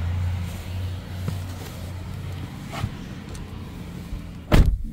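Power driver's seat motor in a 2019 Toyota RAV4 Hybrid Limited with memory seating, a steady low electric hum running through the first half, followed by a brief sharp knock near the end.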